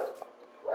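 A single dog bark, brief and fairly close, clipped at the start and followed by another beginning bark, with a short quiet gap between.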